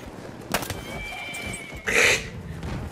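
Horse neighing outdoors: a sharp knock comes first, then one loud, close whinny rises and trails off against a background of faint ambient noise.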